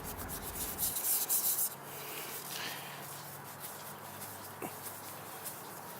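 Quiet rubbing of oil into the foam air filter of an SSR 125 pit bike, a faint, steady scrubbing with a brief brighter rustle near the start and a few soft handling clicks.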